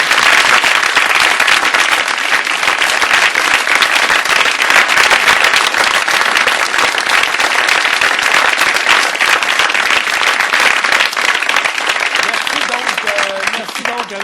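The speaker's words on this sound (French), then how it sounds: "Vous pouvez maintenant les applaudir tous avec plaisir." A studio audience at a televised Quebec election economic debate applauds the debaters, dense sustained clapping that fills the room throughout, with a voice speaking faintly at the end.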